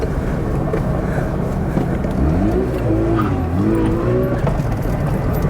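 A Mazda RX7 in second gear swings through a tight turn in a parking lot, its engine droning loud and close with a rising, wavering pitch as the car works around the bend.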